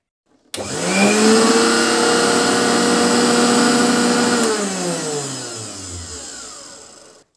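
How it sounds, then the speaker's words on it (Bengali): A repaired electric blender switches on with a sudden loud motor whir that holds steady for about four seconds, then drops in pitch as the blades spin down to a stop. "এখন যদি আমি ব্লেন্ডার মেশিনটি চালু করি"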